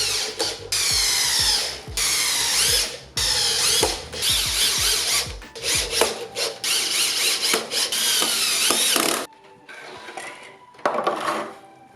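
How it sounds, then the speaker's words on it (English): A power drill drives screws through wooden squares to mount caster wheels for a shop cart, with repeated loud whirring bursts broken by brief pauses, then quieter clicks at the end. "now I'm just gonna screw them in place."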